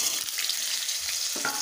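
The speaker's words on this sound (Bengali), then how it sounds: "আলুগুলোকে একটু নেড়ে চেড়ে নেব।" Cut potatoes fry in hot oil in a wok, seasoned with dried red chillies and nigella seeds, giving a steady sizzle broken by short scraping bursts as they are stirred.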